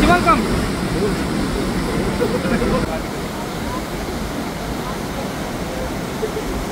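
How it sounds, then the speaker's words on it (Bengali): Johnston Canyon waterfall in Banff National Park, Canada, roars as a loud, steady broadband rush heard up close from a crowded viewing spot, continuous and unbroken throughout. "এখানে একদম কাছ থেকে ঝর্ণাটা দেখা যায়"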